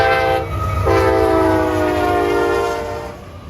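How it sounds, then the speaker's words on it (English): A BNSF locomotive horn, a first-generation K5HL, sounds loud and close in two sustained chord blasts, the second longer, over a low rumble of train noise. "the GVOs that have the BNSF first generation K5HL. Like, that's actually a good sounding horn."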